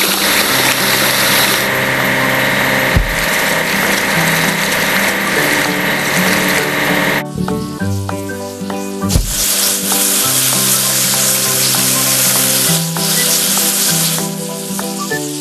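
Water spray and fizzing wash noise from cleaning a flat railway wagon in a children's heavy-equipment puzzle game, continuous and loud, over steady game music with a brief break partway through.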